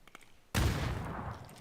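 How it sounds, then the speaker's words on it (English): Gunfire erupts in a first-person shooter match, one sudden loud burst that rings into a sustained rumbling decay, close and alone without voices. "They're shooting from here."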